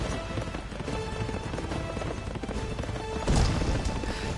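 A horse gallops in a rapid, continuous rush of hoofbeats over a dense, busy background in the video game Berserk, swelling louder near the end.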